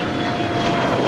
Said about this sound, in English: This Bombardier Challenger 350 is departing to Scottsdale.